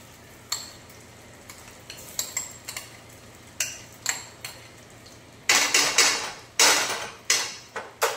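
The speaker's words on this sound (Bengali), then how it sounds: "চালটা দিয়ে ভালো করে ভেজে নেব।" Marinated rice is being fried in a pot with raisins and bay leaves, and a utensil scrapes and clinks against it in scattered close strokes. The strokes turn louder and denser with a brief sizzling rush near the end.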